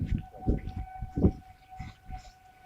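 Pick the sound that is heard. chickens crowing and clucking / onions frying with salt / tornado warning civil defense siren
tornado warning civil defense siren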